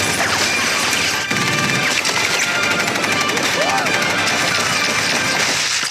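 Rapid machine-gun fire and crashing impacts rattle through an action scene of the Team America puppet movie, loud and dense bursts mixed with other effects and background sound.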